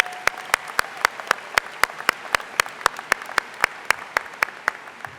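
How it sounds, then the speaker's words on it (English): A single pair of hands claps in a steady, even rhythm at a convocation in a large hall, about twenty crisp, close claps over five seconds, each sharply distinct against a quiet background. "Let's give him another round of applause."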